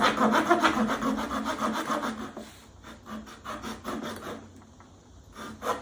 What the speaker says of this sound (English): For sawing, we're doing little cross cuts and whatnot.